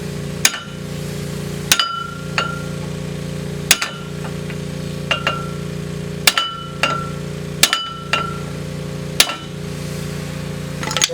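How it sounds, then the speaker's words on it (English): A hammer strikes the ball end of a second hammer held against a rusted screw on a 2006 Chevy Aveo knuckle, giving about ten sharp metallic clinks at irregular intervals over a steady low hum. "You put the ball end of your hammer against the screw and use another one to actually hammer it."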